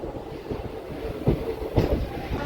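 A DEMU train rolls into the small Krishnamma Kona station, its wheels clacking in a steady rhythm with a couple of louder rail bumps, heard close from on board.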